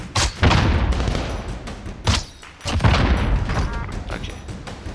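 Gunfire and sniper shots in the Call of Duty Warzone video game: several sharp, heavy shot bursts land in quick succession, each followed by a rumbling tail, loud and close.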